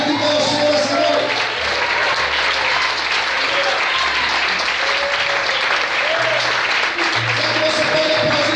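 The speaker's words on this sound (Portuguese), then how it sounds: "Será que você pode aplaudir a Deus?" A church congregation gives sustained, loud applause throughout an evening service, many hands clapping in a dense steady wash, with musical tones and a few voices faintly underneath.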